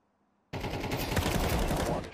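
Sudden burst of rapid automatic gunfire in Counter-Strike 2, a loud, sustained volley that starts abruptly after near silence.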